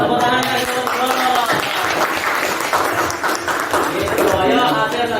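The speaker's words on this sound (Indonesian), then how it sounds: "Tepuk tangan untuk kelompok" A classroom audience applauds a group, dense clapping from many hands at steady volume, with voices and cheering mixed in.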